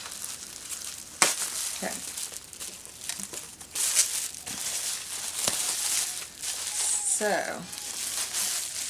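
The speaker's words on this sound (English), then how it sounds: "Let's see if I can get this open here without cutting my finger off" Crinkly plastic and cardboard packaging of a crystal mystery box being torn and wrestled open by hand, with sharp crackles and rustles up close, a few sudden snaps, and a person speaking briefly over it.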